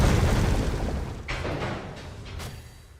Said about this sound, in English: Last judge explodes in a massive area after a few seconds, and that explosion can kill you and reset the entire fight.